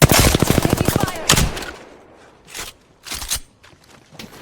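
Rapid automatic gunfire in the Apex Legends battle royale game, a close burst of evenly spaced shots followed by a few separate single cracks and scattered impacts, loud and alone with no talk.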